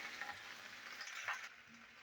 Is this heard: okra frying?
yes